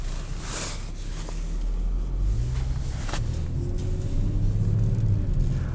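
The twin-turbo V6 of a 2020 Kia Stinger GT2 gives a deep, rumbling engine note from inside the cabin, swelling as the car accelerates, with low throaty tones rising and falling over a few seconds.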